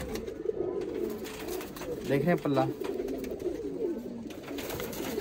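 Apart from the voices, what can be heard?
pigeons cooing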